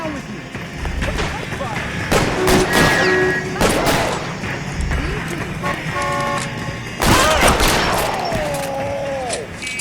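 Gunfire from the video game L.A. Noire: several sharp shots burst out at irregular intervals, mixed with car engine noise, a horn-like tone and other game effects.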